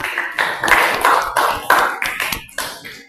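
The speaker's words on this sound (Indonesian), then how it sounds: "Tepuk tangan dulu untuk kelompok 3" A class claps for a student group after its presentation, with a run of sharp, close hand claps in an uneven rhythm, each strike distinct and fairly loud.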